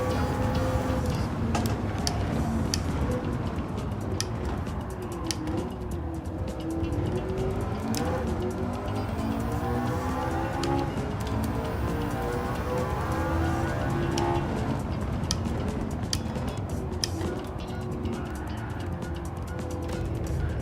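A McLaren race car in Gran Turismo 7 drones steadily throughout, its engine pitch sweeping up and down with gear changes, loud and continuous with no talk over it.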